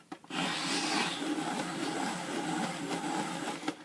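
A hand-cranked quilling strip cutter feeds paper through its blades, producing a steady close grinding, rubbing whir that lasts about three seconds after a brief start, with no voices.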